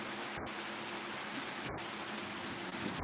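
Heavy downpour drumming steadily and loudly close to a microphone, a dense continuous hiss with a couple of brief dips, no voices.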